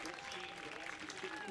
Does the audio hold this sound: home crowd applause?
yes